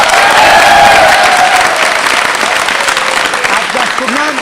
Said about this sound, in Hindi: जोरदार जोरदार तालियां बजाइए।